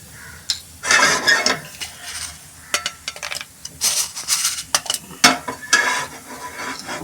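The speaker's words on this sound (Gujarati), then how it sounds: "આપણે તજ બી સહેજ શેકી લઈશું" Cinnamon dry-roasting in a pan while a spoon stirs it, giving irregular bursts of scraping and clinking against the metal with quiet gaps in between.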